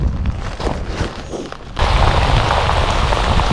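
Rain falling on Willow Springs Lake during a trout fishing outing, a dense, hissing patter that swells abruptly louder partway through and then stays steady and close.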